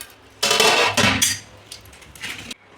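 A metal pot lid set down with a couple of clanks to close a pot of Bangalore-style kushka biryani for cooking, loud and close, with a short ringing clatter and nothing else around it.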